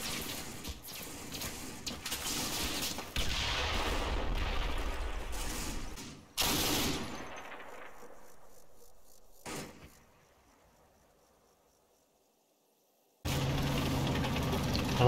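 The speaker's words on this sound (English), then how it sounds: "My forward elements of 13 platoon on my left flank come under heavy fire." Heavy gunfire crackles through a WWII tank battle video game: dense bursts of shots and explosions, then a sharp blast that decays into quiet, a lone report, silence, and a sudden loud return of fire.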